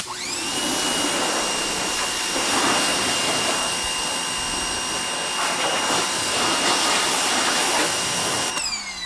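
A Westinghouse electric pressure washer sprays water through a 25 degree nozzle, a loud, steady motor whine and rushing hiss running continuously up close before cutting off near the end.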